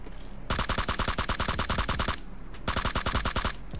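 Automatic gunfire in the mobile battle-royale game PUBG Mobile on the Miramar desert map, two loud rapid bursts of closely spaced shots separated by a short pause.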